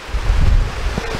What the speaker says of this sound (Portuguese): a chuva tá chegando aqui com vento